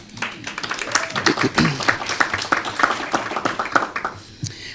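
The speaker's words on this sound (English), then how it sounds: "that's worth a round of applause there" An audience at a school referendum information session claps in a burst of dense, uneven applause that tapers off toward the end, with a voice mixed in.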